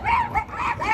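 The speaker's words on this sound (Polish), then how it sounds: "Wojna psów." Dogs yap and bark close and loud in an outdoor waterside spot in Venice, a rapid run of high, strained calls filling the whole second.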